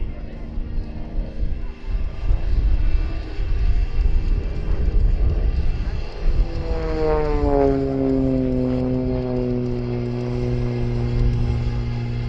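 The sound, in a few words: XA41 aerobatic propeller aircraft flying a display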